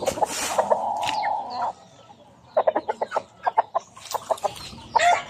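White Kelso gamefowl with straight combs and white legs cluck and call nearby, a sustained squawk followed by a quiet gap, then bursts of sharp, rapid clucks from several birds.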